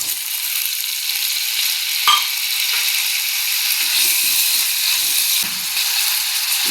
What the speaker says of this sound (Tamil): கத்திரிக்காய் வதங்கிட்டு நம்ம தக்காளியை போட்டு தக்காளி